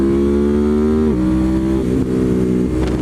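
A 2023 Ducati Monster motorcycle accelerating in Sport mode, its engine note rising steadily through a gear, then dropping briefly as it shifts and climbing again, loud and close.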